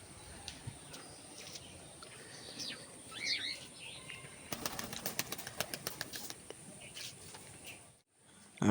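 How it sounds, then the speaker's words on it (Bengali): Pigeons flapping their wings in flight outdoors under a dark, cloudy sky. A quick burst of wingbeats comes midway, with faint bird calls and a soft background hiss around it. "আর পায়রাগুলো দেখো, পায়রাগুলো ওই নতুন দুটো উপরে উঠে গেছে, আর উপরেই রয়েছে।"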